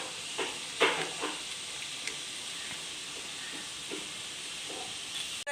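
Ginger garlic paste frying in hot oil, a steady close hiss and sizzle with faint stirring clicks throughout.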